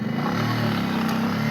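A motorcycle engine runs close by with a steady, throaty low hum, holding an even idle-like tone throughout with no voices.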